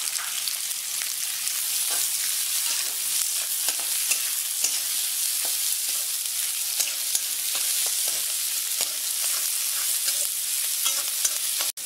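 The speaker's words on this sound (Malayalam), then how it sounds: "എണ്ണയിലേക്ക് 2 സവാള അരിഞ്ഞത് നമ്മൾ ഇടാൻ പോവാണ്. ഇപ്പൊ നന്നായിട്ട് തന്നെ ഇളക്കുക." Sliced onions frying in hot oil while being stirred with a spoon, a steady close sizzle broken by frequent small scraping and stirring clicks, with no talk.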